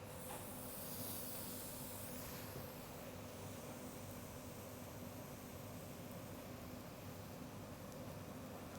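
Langoustine fillets with glaze sizzling on a hot barbecue griddle, a steady dense hiss that holds evenly throughout without pause.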